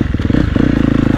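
A KTM 250 motorcycle drifting on snow, its engine revving in quick pulsing bursts, close and loud over about a second, with a rising rev partway through.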